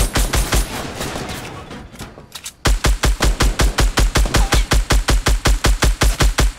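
Fortnite gunfire: after a few scattered shots, a steady rapid string of loud automatic bursts hammers away at a fast even rhythm, close and alone with no talk.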